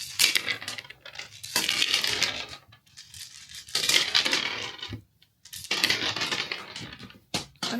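Dice are thrown and tumble onto a board in several separate bursts of clattering, rattling impacts with brief quiet gaps between throws, close and fairly loud with no talking.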